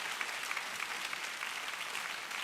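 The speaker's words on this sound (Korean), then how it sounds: "우리 다시 한번 이분들 뜨겁게 박수하고요." A church congregation applauds warmly, a dense steady clapping heard at a moderate distance for the whole stretch with no talking.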